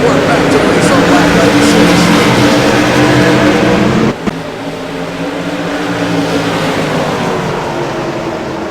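CRA modified race cars roar as they accelerate at a green-flag restart at New Hampshire Speedway, a loud sustained engine drone with a brief dip midway, under continuous commentator talk.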